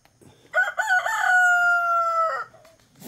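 A rooster on a ranch crows one long, loud cock-a-doodle-doo close by, a stuttering start then a sustained held note, with quiet before and after.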